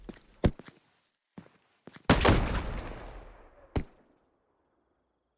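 Fireworks set off in the video game Fireworks Mania: a few soft taps give way to a sharp loud bang followed by a long hissing, crackling fizz that trails off over several seconds, with another sharp pop near the end.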